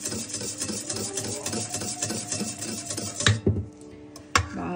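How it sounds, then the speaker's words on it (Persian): A hand whisk stirs syrup-soaked sponge cake batter in a bowl, making a steady rhythmic rasping and scraping with repeated strokes for several seconds, then a few louder knocks against the bowl before it quietens. "من حالا میخوام یه چند دور با همزن دستی"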